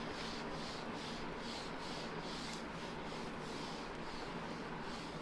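Writing being rubbed off a classroom board, heard as quiet, steady back-and-forth scrubbing strokes in an even rhythm, with no talking over them.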